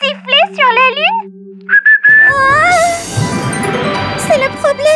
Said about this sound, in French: Tu savais qu'il était impossible de siffler sur la lune?